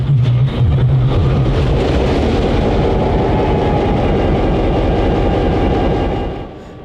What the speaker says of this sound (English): began their day by firing up locomotive number 89